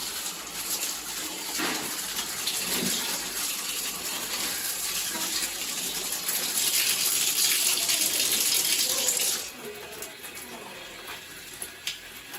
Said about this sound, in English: Once that job is done, rinse your cloths out.